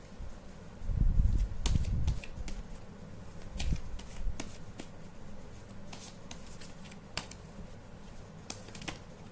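Rider-Waite tarot cards are riffled and shuffled close by, with a dense shuffling burst early on followed by scattered sharp card snaps and flicks over a quiet background, without talking.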